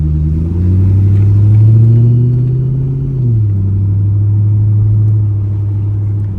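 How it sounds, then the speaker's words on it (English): A C5 Corvette engine idles while warming up, a close, steady low rumble that swells slightly, then settles to a lower, even idle partway through. "I'm gonna let the car warm up a little bit."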